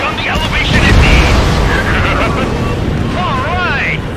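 A heavy explosion as a rail cannon is hit in Ace Combat 7 rumbles loud and broad, with a low boom that lingers under radio-style voices and warbling electronic tones.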